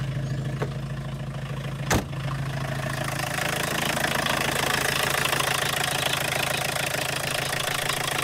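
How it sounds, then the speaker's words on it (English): A 1.6 diesel engine running on cooking oil, with air trapped in its return line, idles with a steady rough knock, close and loud, after a brief sharp click; no voices are heard. "Startup was still on diesel, the remaining diesel that was in the fuel filter."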